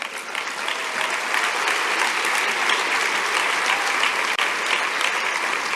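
A crowd applauds steadily, a dense wash of clapping that stays loud and even throughout.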